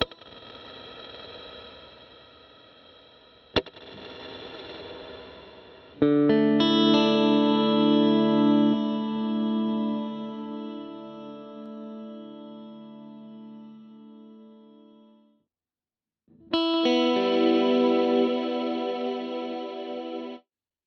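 Electric guitar played through a Headrush reverb setting with heavy vibrato, sustained chords ringing with shimmering, wavering tails and echoes, fading to silence before a second strummed chord swells in, clear and fairly loud with no talk.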